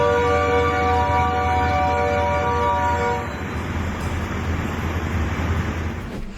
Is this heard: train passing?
yes